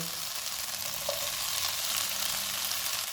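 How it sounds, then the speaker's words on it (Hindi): Chicken pieces fry in a hot pan with a dense, continuous close sizzle and crackle that stays loud and steady throughout, unaccompanied by any talking. "अब हम चूल्हे को लो टू मीडियम कर देते हैं और इसको भून लेते हैं।"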